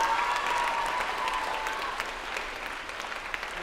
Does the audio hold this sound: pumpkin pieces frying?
no